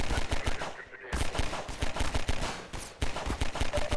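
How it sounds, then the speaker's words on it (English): Rapid automatic gunfire from a weapon in Half-Life 2, bursts of sharp shots fired in quick succession with brief pauses between volleys, loud and up front. "You can shoot very rapidly"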